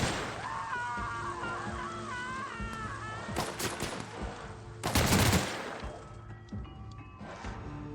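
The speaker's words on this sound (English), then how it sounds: "who is still shooting?" Gunfire in The Outer Worlds on PS4 Pro, with sharp shots clustering around the middle and a dense burst near the five-second mark, set against a sustained game soundscape with tonal music-like layers.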